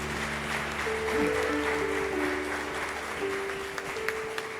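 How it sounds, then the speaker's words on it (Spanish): A church congregation applauds in a steady wash of clapping while sustained organ or keyboard tones hold underneath, continuing evenly throughout without talk. "Démosle un aplauso al Señor"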